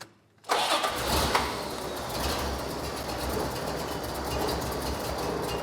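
A car with a fuel fault cranks and fires after a brief silence, then settles into a loud, close, uneven rough idle with a low unsteady rumble that continues without talk.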